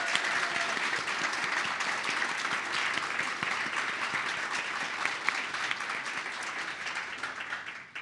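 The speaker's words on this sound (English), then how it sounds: "If we could all give a round of applause for all the winners today." Sustained audience applause for award winners at a Deputy Minister's awards ceremony, a full even wash of many hands clapping, loud and steady before tapering off at the very end.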